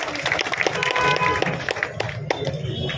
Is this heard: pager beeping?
no